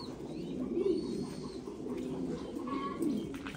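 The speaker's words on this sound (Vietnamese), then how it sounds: "cặp chim bồ câu bố mẹ đang nuôi con" Thai Titan pigeons cooing on a farm while raising their young: soft, low, throaty coos repeat close by over a steady murmur of other birds, with a few faint chirps in the background.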